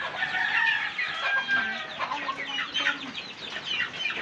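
Pet chickens cluck and chatter in a busy, overlapping flock, steady and fairly close throughout, with no talking.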